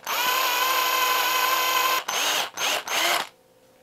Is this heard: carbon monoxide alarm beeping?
no